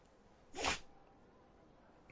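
A character in Anthem lets out one short, sharp sneeze, loud and close, over a quiet background.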